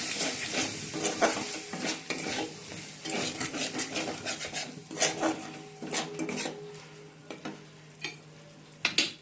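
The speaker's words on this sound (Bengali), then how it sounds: "আর একটু আদা বাটা দেবো, একটু আদা বাটা, ঠিক আছে। ভালো করে এটা মিশিয়ে নেবো।" A spoon scrapes and clatters in a pan as masala and ginger paste are stirred together for a chicken chaap, with irregular close metallic knocks over a low, soft sizzle.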